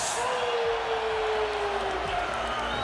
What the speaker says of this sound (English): You can hear the applause for Dennis Schroeder